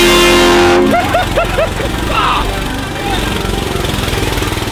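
Shifter kart engines race around town, a loud sustained mechanical drone with rising revs and whining pitch changes, close and continuous, with a shout over it.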